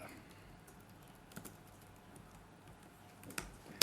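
Faint computer keyboard typing while code is copied and pasted: sparse soft key clicks with a few sharper taps, quiet and steady against a low background hum, with no talking.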